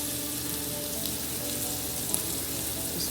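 Seasoned goat meat for Jamaican curried goat sears in a hot skillet, giving a steady, close, even sizzle and hiss with no talking.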